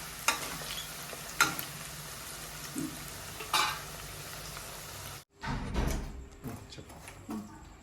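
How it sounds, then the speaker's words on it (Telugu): Chicken pieces frying for a homemade chicken pickle, a steady close sizzle with scraping stir strokes, briefly dropping out then resuming. "చూడండి ఇట్లా ఫ్రై అయిపోయింది కదా చికెన్"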